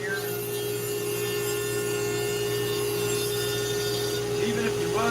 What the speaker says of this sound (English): Anybody curious about what burr I'm using here? Kutzall flamer burr.